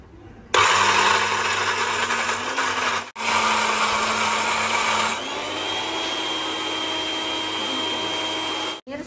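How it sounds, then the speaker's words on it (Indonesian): A small household blender grinds peanuts, shallots and garlic with a loud, steady whirring roar. It cuts out briefly around the third second, then restarts and runs on close and alone. "Kita blender secara bertahap ya pemirsa"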